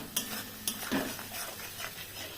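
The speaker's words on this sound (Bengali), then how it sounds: "সেই জল দিয়ে আমি এখন একটু এমনি করে কষাবো।" Spices sautéed in a pan with a splash of water from the spice grinder, soft stirring scrapes and clinks over a low sizzle, close and fairly quiet, with no voices.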